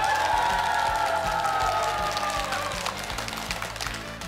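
Studio audience clapping and cheering at the opening of a Korean regional TV entertainment show from Ulsan, continuous applause over background music that slowly fades.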